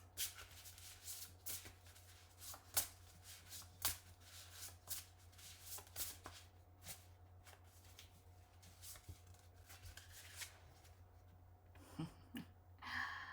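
Oracle cards are shuffled in quick, soft riffling bursts that repeat irregularly, close and quiet, with faint breathing in between.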